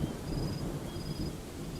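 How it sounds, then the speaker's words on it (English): Steady heavy rain in a storm pours down with a deep low rumble beneath it, continuous and fairly loud throughout. "The rain is getting heavier."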